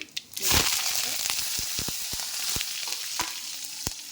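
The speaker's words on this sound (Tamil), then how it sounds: "சின்ன சீரகம் பொடிஞ்சிருச்சு" Cumin seeds spluttering in hot oil for sambar: a sudden burst of sizzle, then a steady crackle with scattered sharp pops and ticks, close and fairly loud.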